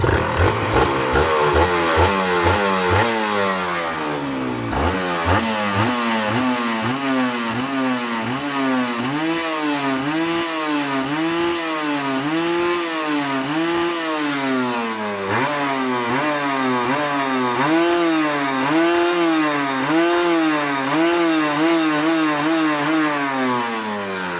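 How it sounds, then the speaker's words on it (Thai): A stock Honda NSR RR 150cc two-stroke motorcycle engine revs hard and close, its buzzing pitch climbing and falling in repeated throttle blips over a steady idle, loud throughout with no voices. "รถมันร้อยห้าสิบีซีสองจังหวะมันแรงอยู่แล้วนะฮะ"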